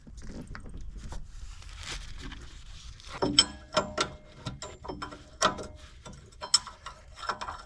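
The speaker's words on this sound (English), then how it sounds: "Go ahead, loosen these bolts." A ratchet wrench loosening the rear strut bolts on a Civic hatchback Si during a suspension swap, heard as uneven bursts of clicking with metallic ticks and knocks, close by and moderately loud, with no talk.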